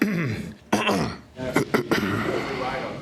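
A gravelly throat clearing followed by a short grumbling cough from an NFL coach, close and loud, with a couple of brief rough bursts.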